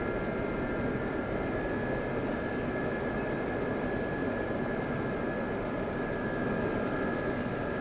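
A Gazelle helicopter in a flight simulator slows toward a landing near a smoke marker, its engine and rotor a steady, dense droning roar with a fixed high whine, continuous and unbroken for several seconds.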